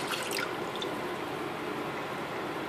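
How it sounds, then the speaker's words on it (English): Water poured into a pan for choux pastry makes a soft continuous splashing trickle, faint and close, with no talking over it. "water into the pan"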